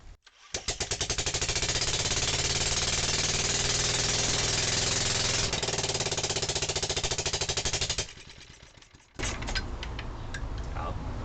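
A Barford Atom engine fires up and runs with a loud, steady, rapid chugging for several seconds, then cuts out abruptly; after a short gap, a different mix of clatter and handling noise follows.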